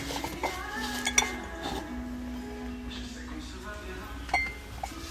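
Ceramic mugs clink and knock lightly against one another as they are handled and stacked, several short bright taps scattered through the clip, with a louder knock near the end over a background of store murmur and voices.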